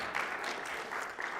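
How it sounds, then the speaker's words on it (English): An audience at a healthcare symposium claps steadily, a dense wash of applause from a moderately sized crowd heard at some distance, holding even throughout without talk. "Give him a round of applause."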